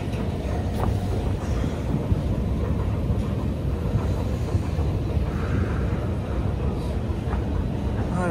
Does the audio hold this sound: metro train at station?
yes